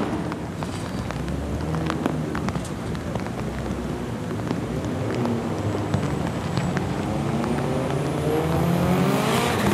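Drift cars run at Formula Drift Japan 2018 Round 4 at Okuibuki Motor Park, with a continuous engine roar from a moderate distance that swells and climbs in pitch toward the end, over steady broadband tire and track noise.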